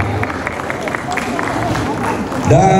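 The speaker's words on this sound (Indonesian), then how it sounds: "Silakan tepuk tangan buat Bu Rizna." Applause for a woman at an indoor Down syndrome awareness event: a dense, steady patter of clapping from a crowd, with murmuring voices and a louder voice breaking in at the end.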